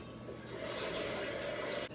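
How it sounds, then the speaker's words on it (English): Bell pepper rinsed under running tap water, a steady close rushing hiss of water broken by rubbing and splashing as the pepper is turned in the stream, cutting off near the end. "Gonna pretty much cut some out of it and rinse it out."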